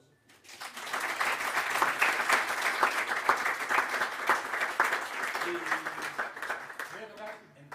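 A jazz club crowd at Recoletos Jazz bursts into warm applause at a 50th-birthday concert for Enrique Heredia "Negri", close and steady claps that fade as a voice begins at the end.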